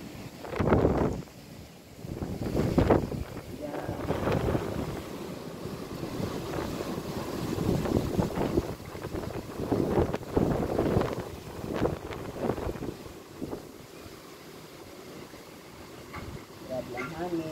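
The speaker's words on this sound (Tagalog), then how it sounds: "Grabe ang hangin. Malakas." Strong wind gusts roar across the microphone outdoors on a cherry-blossom day, buffeting in loud surges with a steady rushing bed, while a person talks intermittently over it.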